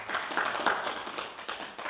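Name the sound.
audience clapping to welcome guests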